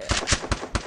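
Rapid bursts of gunfire in a Free Fire esports match, four sharp evenly spaced shots fired in quick succession, loud and close, with no voices.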